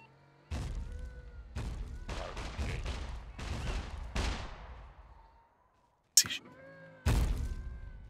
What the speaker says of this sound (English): He's shooting at someone in there.